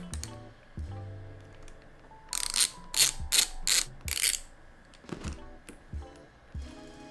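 Sharp bursts of ratchet clicking from a hand ratchet undoing the brake lever on a Kawasaki KLX140 dirt bike, several quick runs of clicks in the middle, close and loud, with quieter tool handling before and after.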